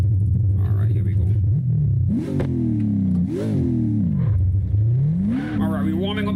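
Simulated car engine in CarX Drift Racing revving repeatedly while the tires warm up, pitch climbing and falling in several surges over a steady mid-range drone, loud and close.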